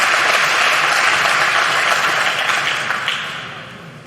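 A lively crowd at the 2021 World Pool Masters semi-final applauds a spectacular jump bank shot, loud sustained clapping that fills the arena and gradually thins out toward the end.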